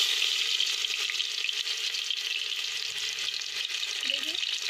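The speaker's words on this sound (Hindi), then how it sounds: "प्याज और लहसुन को थोड़ा सा हल्का सा ब्राउन होने देंगे" Onion and garlic fry in a pan with cumin seeds for dal, giving a steady, close, loud sizzle with faint stirring that runs without pause.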